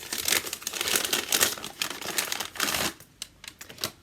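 Crinkly plastic wrapping on a Very Fun Yarns advent calendar package rustles and crackles in a dense, continuous burst for about three seconds, then breaks into a few sharper separate crinkles, close and fairly loud with no talking.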